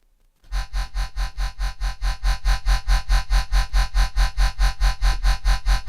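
A heavily distorted, gritty dubstep bass synth made in Serum pulses in a fast steady wobble rhythm, loud and continuous after a short silence.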